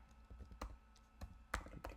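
Computer keyboard typing as commands are entered into Kermit to transfer files to an old vintage Apple Mac over USB, with a few quiet, scattered key clicks at close range and no talking.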